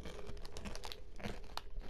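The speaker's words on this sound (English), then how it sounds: "Sorry, guys, we hear crunching." Someone eats something crunchy up close, giving soft crackly crunches and crinkles in an irregular chewing rhythm at low volume, without talking.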